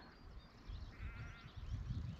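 Sheep bleat right outside a camper van parked in the Lake District countryside, a near, wavering cry over rumbling low background noise.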